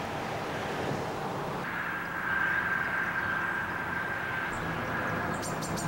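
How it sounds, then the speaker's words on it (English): Train approaching on the Erie relocation track at the Baker Street viaduct in Corning, New York, a steady broad rumble with a faint high whine growing slightly louder, heard outdoors with wind noise and no talking. "That's a train for this track right here,"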